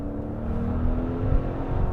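A car engine revs in a steady low rumbling surge, close and continuous without pauses, with no voices over it.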